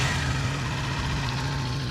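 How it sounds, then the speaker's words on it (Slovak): A 2018 Kawasaki Ninja 400 twin-cylinder motorcycle engine idling, a steady low, even hum, fairly quiet and close, with no talk over it. "takže si motorku aj naštartujeme. Samozrejme ten zvuk, klasika, dvojvalec"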